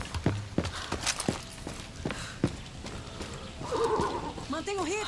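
Horses from the video game Far Cry 6, hooves clip-clopping in an uneven walking rhythm followed by a loud, close whinny with a wavering pitch.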